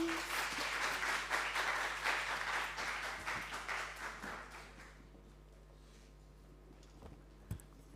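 An audience at a disaster risk reduction panel discussion claps for about five seconds, moderately distant, then the applause fades into quiet room tone broken by a single knock.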